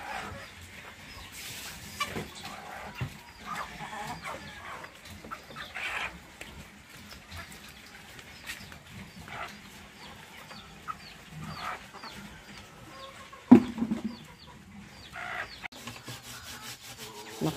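Farmyard chickens clucking on and off at a moderate distance, with scattered rustles and knocks and a sharper thump near the end, no talk.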